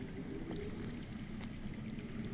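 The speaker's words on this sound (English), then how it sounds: "That's water. I hear water. From underground." Underground water in the video game Telltale's Game of Thrones flows as a steady, dense trickling and pouring wash, continuous and moderately close with no voices.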